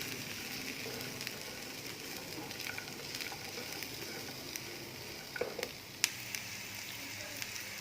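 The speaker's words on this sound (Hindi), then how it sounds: "तो ये ड्राई फ्रूट्स अच्छे तरीके से फ्राई हो गए" Dry fruits frying in a pan for sheer khurma, a faint steady sizzle with occasional soft pops and stirring clicks.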